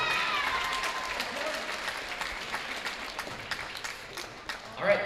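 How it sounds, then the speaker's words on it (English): Crowd applause in a high school gym on volleyball senior night, honoring the seniors: a fairly faint, diffuse wash of clapping heard from a distance, tapering slightly near the end. "can we get one last round of applause for our seniors and all their hard work?"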